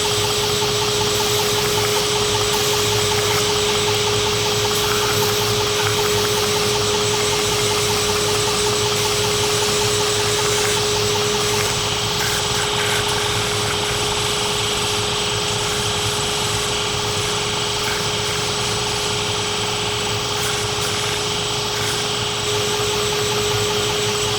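A belt grinder smooths the edges of a Kydex sheath, giving a loud, continuous motor drone with a steady whine and abrasive rasp that holds unbroken throughout.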